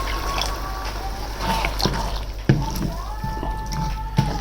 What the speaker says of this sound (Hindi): ये गिलास मैंने पानी का शामिल किया है।